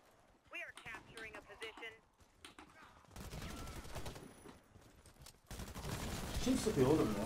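Gunfire in the Warface video game, Rogue, Truvelo CMS 20x42mm and similar weapons, with rapid bursts of shots growing louder toward the end while someone talks over the first seconds.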